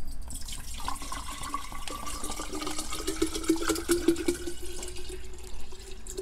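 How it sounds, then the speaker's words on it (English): Nutrient water with Epsom salts poured steadily into a hydroponic Kratky container for Dragon Egg cucumber plants, a continuous close splashing and trickling whose pitch rises slightly as the container fills. "So let's pour that in."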